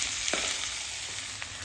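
Peeled, cut drumstick pieces, cluster beans and curry leaves sauté for sambar, giving a steady close frying sizzle with a few light stirring scrapes and no voices.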